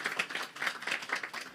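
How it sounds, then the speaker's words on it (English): Audience applause at a law orientation program for newly admitted Nigerian lawyers, greeting the managing partner of a law firm; a small, moderately quiet round of clapping with distinct individual claps, steady through its short length. "Mr. Henry Kelechiku Eni Otu, one more time a round of applause for him."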